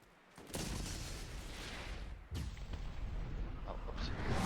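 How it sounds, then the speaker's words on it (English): A rapid-firing gun in Borderlands that shoots two bullets at once, a dense continuous roar of shots with a brief break midway, loud and close, with no talk over it. "as you can tell, it fires a lot of bullets"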